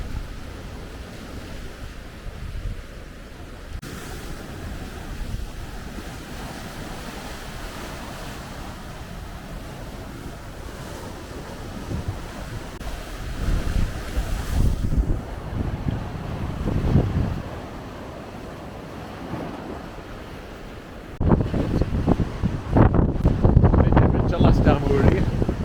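Sea waves splash and surge at Trearddur Bay, with strong wind buffeting the microphone throughout and louder bursts of surf crashing nearby toward the end.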